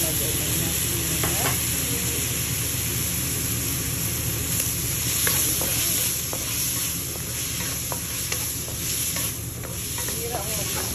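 Spaghetti tossed into a hot pan for carbonara, a continuous sizzle and frying hiss broken by scraping and clinking of a utensil stirring through it, with no talking.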